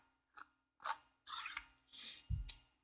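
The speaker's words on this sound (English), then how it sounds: "So we'll unscrew the handle here." Lightsaber handle being unscrewed on a Hand of the Emperor saber with a ProffieClip 2 board, a few short close metallic rasping twists in separate bursts, ending in a brief low clunk.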